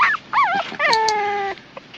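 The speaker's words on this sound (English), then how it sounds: "Hey, look at these puppies." Puppies whimper and yip in a run of high, wavering cries, several short yelps followed by a drawn-out whine, close and clear with no talking.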